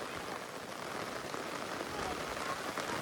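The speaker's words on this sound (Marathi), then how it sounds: "फुल पाऊस, फुल एन्जॉय. बघा पाणीच पाणी" Heavy rain pours down steadily on a farm, a dense close-up patter of drops hitting a surface with no break for the whole stretch.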